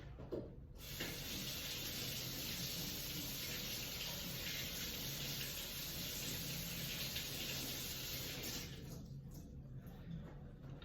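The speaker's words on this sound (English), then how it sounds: "I'll give the potato a quick rinse here." A potato rinsed under a running kitchen tap, giving a steady broad hiss of flowing water that holds for about nine seconds before easing, close by with no speech.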